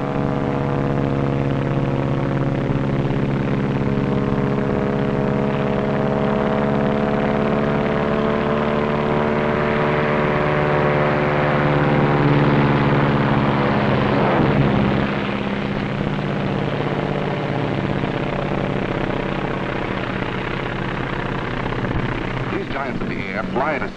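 Four radial engines of a Consolidated flying boat roaring on takeoff, more than 4,000 horsepower in all: a loud, steady, droning hum with beating tones that climbs slightly in pitch, over a narrator's voice.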